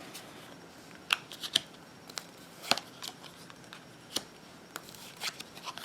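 Tarot cards being shuffled and handled by hand, producing scattered crisp snaps and light riffles at an uneven rhythm, close and fairly quiet, with no voices.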